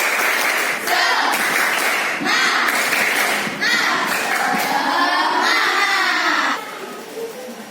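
Schoolchildren in a classroom break into a loud burst of rhythmic spirit clapping and excited shouting, the claps and voices coming in quick repeated rounds before easing off near the end.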